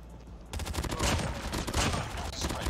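Pharo rifle in Call of Duty Mobile fires repeated three-round bursts, sharp, loud cracks in quick clusters after a quiet start.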